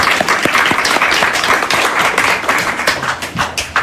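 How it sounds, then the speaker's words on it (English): A round of applause from attendees at a library food meeting: loud, close, steady clapping from a modest group that carries on for several seconds. "Let's give a round of applause, please."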